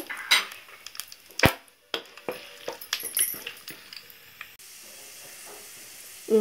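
Whole spices such as cinnamon and chana dal fry in hot oil in a pan for tomato rice, giving a close sizzle broken by sharp metal clinks and scrapes of stirring. No one speaks.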